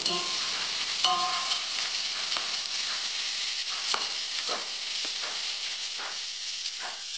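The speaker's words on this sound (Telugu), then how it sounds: "కట్ చేసిన పచ్చిమిర్చి బాగా ఆయిల్లోనే ఫ్రై చేసుకోవాలి" Chopped onions and green chillies fry and sizzle in hot oil for ghee rice, a steady close hiss with occasional stirring clicks and scrapes throughout.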